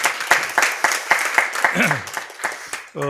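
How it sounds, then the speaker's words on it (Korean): An audience at a presentation and discussion event claps for two presenters, with sharp, uneven claps scattered across the stretch, and a voice briefly comes in at the end. "두 분께 한번 큰 박수 한번 부탁드리겠습니다"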